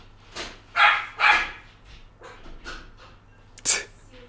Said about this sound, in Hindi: कुत्ते ने डरा दिया